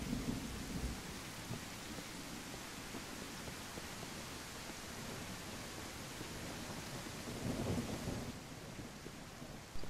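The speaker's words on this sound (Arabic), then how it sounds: "هنطلع في المطر، أول ما طلعنا جه الضباب." Steady rain in the Mist Survival video game, a dense hiss of falling water with low rumbling swells like distant thunder, continuous and fairly faint with no voices.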